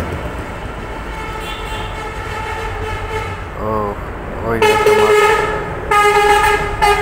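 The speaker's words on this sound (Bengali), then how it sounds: "আজকে গ্রামের রাস্তায় আবার এত গাড়ি কই থেকে আসলো?" Vehicles pass along a village road beside a pond, a continuous rumble with loud horn blasts toward the end, and someone speaks briefly over the traffic.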